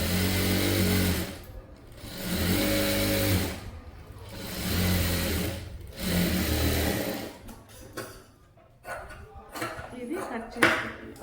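Sewing machine stitching the centre seam of an umbrella frock, running in several steady bursts of a few seconds each with short pauses between, close and fairly loud, followed by quieter handling noises.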